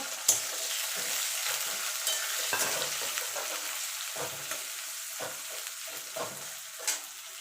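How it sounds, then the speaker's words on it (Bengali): Continuous sizzling of onions frying in a pan, broken by the scrape and clatter of a spoon stirring every second or so. "পেঁয়াজটাকে একটুখানি মানে লাল লাল করে ভেজে নেব"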